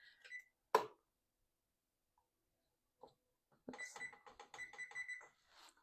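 A kitchen oven timer is set with a single sharp click, then several quick beeps sound close by, while the oven bakes a healthy chocolate cake; a brief burst of talk follows.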